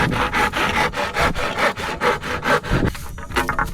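A damaged hand saw rasps rhythmically through wood, about a dozen quick back-and-forth strokes, loud and close, slowing to lighter scrapes at the end.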